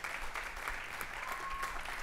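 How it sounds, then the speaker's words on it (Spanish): Applause from a studio audience at a Costa Rican music television show, steady and fairly quiet, sustained clapping without any voices over it. "Un fuerte aplauso para ella."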